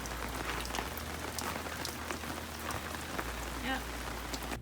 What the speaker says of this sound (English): we got a rain shower coming through, and it looks like it's not going to be going away anytime soon